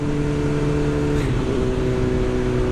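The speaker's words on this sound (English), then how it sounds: "I suppose the exhaust is a little bit shoutier" A 2021 BMW S1000R motorcycle engine with a fairly loud exhaust runs steadily, holding a low droning tone that shifts pitch slightly partway through, close by and continuous with no talking.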